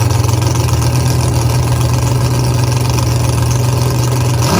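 Drag race car with wheelie bars and a 4-link suspension, heavy engine droning loudly and steadily near the line, then changing abruptly just before the end.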